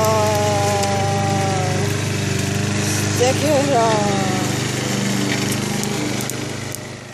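A lawn mower engine runs steadily and loudly throughout, with a person briefly speaking over the drone.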